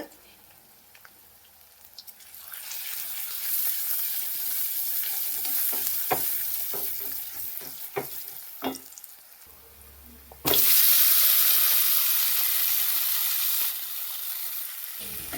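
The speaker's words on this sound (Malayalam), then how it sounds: "കടുകിട്ട് പൊട്ടിച്ചിട്ട് ഉള്ളി ഇട്ട് കൊടുത്തേക്കാണ്" Onion and chili powder fry in a pan after mustard seeds pop, a moderate close sizzle with scattered stirring clicks and pops, then a sudden louder rushing hiss near the end.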